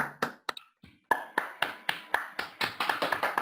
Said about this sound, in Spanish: Un aplauso para la maestra Vilma, por favor.